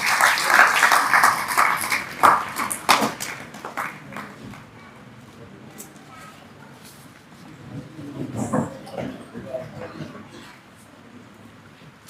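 Audience applause at an award and honoring ceremony in Aurangabad, a loose burst of clapping that is loudest at the start, fades under a lull, then swells again briefly, with murmuring voices in the hall.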